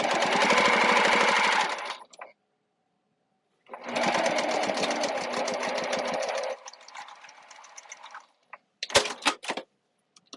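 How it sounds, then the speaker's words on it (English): A sewing machine stitches fabric binding in two loud, close bursts of rapid mechanical whirring separated by a pause, the second trailing into a softer run, followed by a few sharp clicks and knocks. "Start with a back stitch and then sew all the way to the top."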